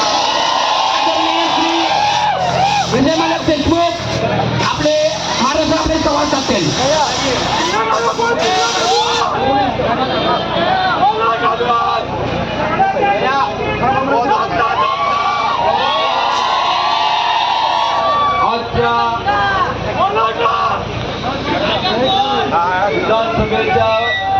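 A crowd at an election victory celebration in Solapur, loud sustained cheering, whoops and shouting close by, with voices yelling over the din throughout.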